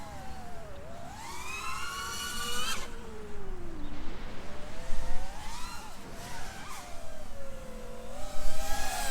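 FPV drone, a Quadmula F5, taking off from a car roof outdoors, its motors whining and sweeping up and down in pitch with repeated revving surges, loud and close throughout.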